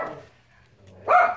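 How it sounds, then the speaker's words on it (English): Pet dogs bark indoors in a single short loud burst near the end, after a quiet stretch with faint low background hum. "I'm very sorry about them barking."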